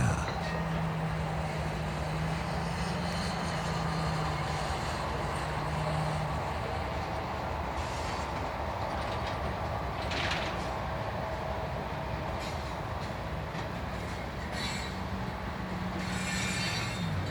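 A freight train carrying Caterpillar D11 bulldozers rumbles steadily past at close range over a railroad bridge in Richmond, Indiana, with metallic clatter and occasional high wheel squeals over a continuous heavy roar.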